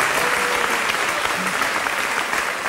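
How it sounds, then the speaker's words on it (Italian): Audience applause for Pino on an Italian TV show fills the room, steady dense clapping from a crowd that holds at full strength throughout without letting up. "Un applauso a Pino che ha fatto questo a Serflano."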